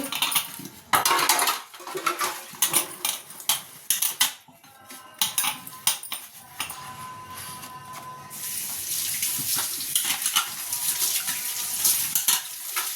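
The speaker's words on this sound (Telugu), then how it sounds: "మార్నింగ్ తోమలేదు కదా గిన్నెలో, అవి తోమేస్తున్నా" Steel pots and dishes are scrubbed and clanked in a kitchen sink, with irregular metallic knocks followed by a long stretch of steady running tap water.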